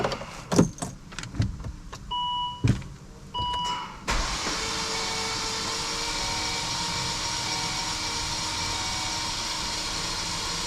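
A few clicks and short bursts are followed by an oil-burning Volvo engine cranking over continuously, a steady whirring drone up close.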